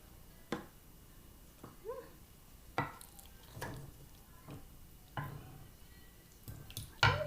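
A spoon scrapes and taps inside a parfait cup of whipped cream, a handful of short, sharp clicks and scrapes spaced irregularly, close and fairly quiet, with faint soft handling noises in between.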